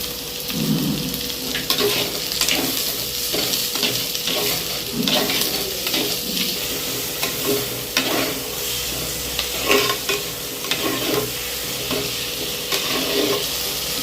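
Onions frying and sizzling in a pan for chicken gravy, with steady crackling hiss throughout and periodic scraping stirs, close and fairly loud with no talking.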